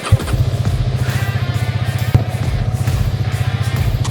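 A Hero Karizma XMR motorcycle engine running close and loud with a steady, rapid pulsing thrum and a single sharp knock partway through.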